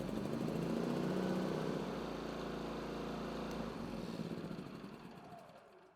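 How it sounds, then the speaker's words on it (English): A Polaris P3200iE portable generator runs with a steady mid-pitched engine drone, nearby and fairly even, easing down toward the end without any talking. "Start the generator to verify the battery is properly connected."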